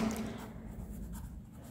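Marker or chalk writing on a classroom board during a sixth-grade maths lesson on mensuration, a steady scratchy stroke running for under two seconds with no talk over it.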